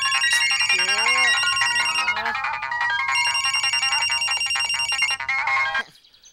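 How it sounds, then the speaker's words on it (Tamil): A phone ringtone plays loudly and continuously for about six seconds in a Tamil TV serial scene, a bright melodic electronic tune with repeating notes that cuts off abruptly near the end. "டேய் உனக்கு தான் ஃபோன் அடிக்குது எடு."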